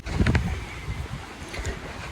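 Wind blowing outdoors on a sunny day, gusting against the microphone in low, rumbling buffets, strongest near the start.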